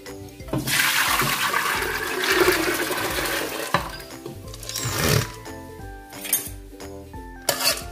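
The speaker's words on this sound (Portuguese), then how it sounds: "Agora eu vou estar colocando na panela de pressão." Soaked hominy and water pour into a pressure cooker, a loud, continuous splashing and rushing of liquid with clinks of the pot, ending in a few scattered knocks and drips.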